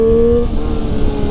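A 2020 Triumph Street Triple RS motorcycle engine drones steadily at a high idle and then shifts slightly in pitch, loud and close, with no voices.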